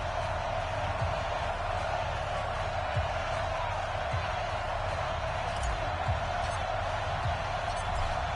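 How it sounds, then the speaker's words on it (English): Steady roar of a packed stadium crowd in Madden 20 at Arrowhead, a dense, unbroken wash of cheering that holds level throughout, with faint thuds and whoops poking through. "This crowd is ready as their guys get set to match up with the Baltimore"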